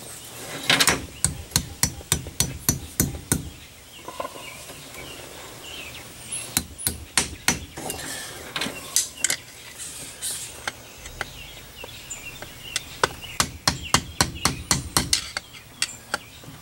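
A hammer taps repeatedly on the front U-joint of a 1997 Dodge Ram 1500 truck, sharp metallic strikes in quick bursts separated by short pauses, close and crisp.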